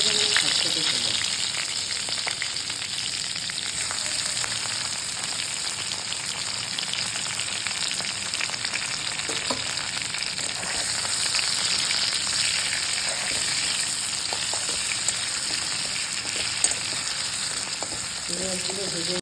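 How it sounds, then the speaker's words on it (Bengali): Prawns frying in hot oil, a dense, steady sizzle with occasional stirring clinks, close up and continuous throughout, without any talk. "চিংড়ি মাছগুলোকে ভেজে নেব এই যে চিংড়ি মাছ"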